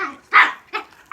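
A dog gives three short, sharp barks and yips close by, with brief pauses between them, sounding agitated during play with a soccer ball.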